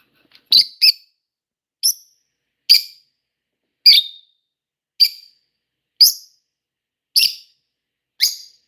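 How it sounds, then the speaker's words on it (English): A cat's short, high chirps repeat about nine times at irregular intervals, each one clear and close against silence. "Twilight's chirping and then she makes like a little meow."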